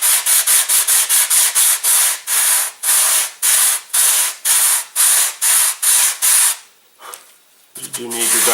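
Sandpaper rubs a bevel into a model glider wing in quick, regular strokes, close and loud, about a dozen rasping passes before a pause and a short touch of voice at the end.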